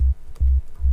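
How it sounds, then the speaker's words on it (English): Sub bass layer of a Melbourne Bounce bass line: deep, rounded low notes pulsing three times in about a second, each held briefly with short gaps between, playing alone. "We will have the sub bass, which will sound like this"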